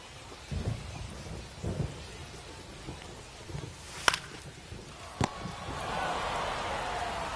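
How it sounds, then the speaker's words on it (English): Rain falls steadily during a baseball game in the video game The Show 25, with several low thunder rumbles, two sharp cracks and a louder rain wash toward the end. "the rain's still a factor here, and the umpires may have their hand forced sooner than later"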